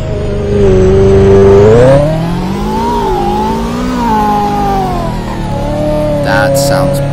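A Ferrari 430 supercar engine revs loud and close, its tone climbing and easing back in waves over a deep exhaust rumble, with brief voice-like noise near the end.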